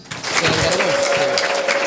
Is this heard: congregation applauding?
yes